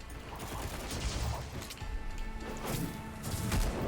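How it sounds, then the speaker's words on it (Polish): A charged single-shot weapon fires in the action game Darksiders Genesis, producing dense, loud crashing blasts and impacts that run continuously through the short stretch of gameplay. "to jest taki pojedynczy strzał, można go ładować"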